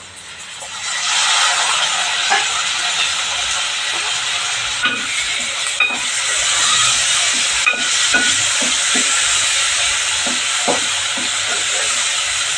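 Tomatoes and curry leaves fry in a pan with a steady loud sizzle and hiss, broken by occasional stirring clinks and scrapes, with no talking.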